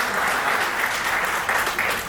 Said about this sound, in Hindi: आपकी तालियां एक बार हाथ उठा के बजाएं